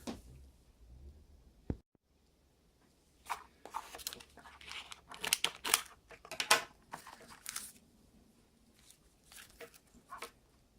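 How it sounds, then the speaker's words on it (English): Scissors cut into the packaging of a Nokia 8 phone during unboxing, producing quiet irregular snips, crinkles and tearing rustles up close after a brief silent pause. "Get the scissors."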